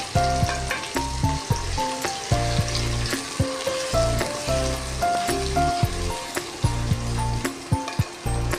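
Sliced onions fry in about half a cup of ordinary cooking oil in a pan. A steady, close sizzle runs throughout, with repeated clinks and scrapes of a spoon against the metal. Nobody speaks.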